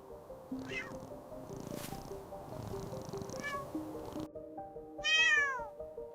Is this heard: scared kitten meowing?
yes